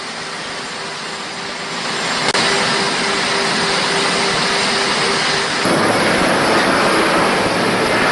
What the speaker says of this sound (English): Trump then stepped onto the Marine One presidential helicopter and departed the airport for Tokyo's Imperial Palace